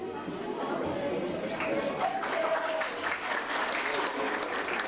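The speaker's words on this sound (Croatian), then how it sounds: "Ovaj aplauz je bio mlak, ali nadamo se da će oni naredni biti mnogo žešći" An audience gives lukewarm applause at a show, steady moderate clapping with voices and chatter mixed through it.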